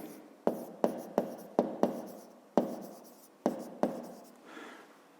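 A pen writes on paper in a series of about eight distinct, crisp strokes and taps at an uneven pace, close and alone, as figures are jotted down for a fifth-grade maths exercise.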